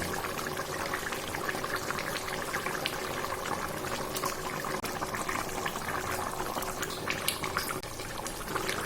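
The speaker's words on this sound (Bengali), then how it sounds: "দেখুন ঝোলটা ফুটে গেছে, এবার মাছগুলো দিয়ে দেওয়া হচ্ছে" Fish curry gravy boiling hard as aar fish are dropped in, a loud continuous bubbling and spattering with small splashes scattered throughout, no voices.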